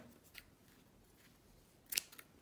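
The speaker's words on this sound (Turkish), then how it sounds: "İpimi de kestim." Scissors snip yarn on a crocheted amigurumi turtle keychain, one soft close cut followed by a sharper pair of quick snips, faint and nearby in a quiet room.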